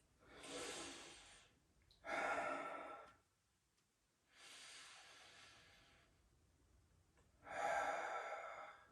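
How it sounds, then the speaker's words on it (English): Slow, deep breaths during a yoga session, heard as four long airy inhales and exhales with quiet gaps between them, close and soft. "let's take 3 full deep inhales and exhales here"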